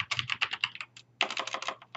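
Rapid clatter of typing on a computer keyboard, two bursts of quick keystrokes separated by a short pause, close and clear with no talking.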